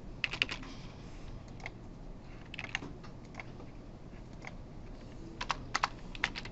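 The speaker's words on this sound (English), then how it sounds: "Pretend I can type." Quiet keystrokes on a computer keyboard in a lecture setting, irregular clusters of clicks with pauses between them over a faint background hum.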